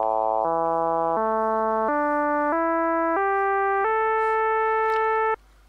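A Scrooo synthesizer plug-in in fixed mode plays eight rising notes in a steady stepwise sequence, each held about half a second, the tone growing duller as the keys climb before stopping abruptly.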